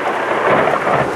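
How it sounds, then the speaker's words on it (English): Thunder from a lightning strike during an afternoon thunderstorm in Crestline, California, a loud sustained rumble with rain noise and no talk. "Beautiful lightning strike."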